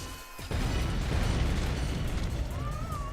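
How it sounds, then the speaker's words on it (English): A deep, rumbling explosion bursts out suddenly in the arcade flight game Pilot Kids (Sega Model 2), then roars on as a dense, loud blast that lingers, with a faint tone rising near the end. "Big explosion, big explosion. That was fat."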